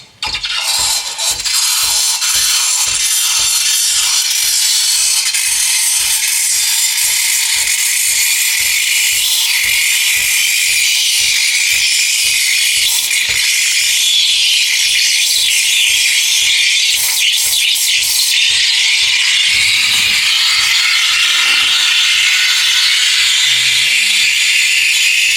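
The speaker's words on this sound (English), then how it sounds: "By the time I put the steaming through it, created a foam head for the latte, we should be good and ready to go." Steam wand frothing milk for a coconut vanilla latte: a loud, continuous hiss runs throughout with a rapid, steady ticking rattle underneath.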